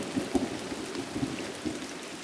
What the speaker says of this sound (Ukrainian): І дощ пішов з першого числа і по сьогоднішній день.